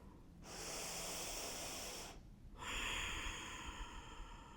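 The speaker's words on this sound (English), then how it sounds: "Take a breath." Deep breathing during a gentle stretching exercise: a long airy inhale followed after a brief pause by a long exhale, close and soft, with no speech.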